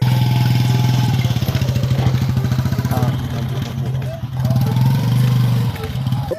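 A motorcycle engine idling nearby with a steady, throbbing, mid-pitched putter that dips briefly and then picks back up, with faint talk in the background.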